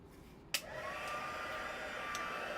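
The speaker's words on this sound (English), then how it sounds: "let's just come back in with that heat tool" A crafting heat tool switches on with a click and blows a steady, faint whooshing hum while embossing glitter paper, continuing alone without talk.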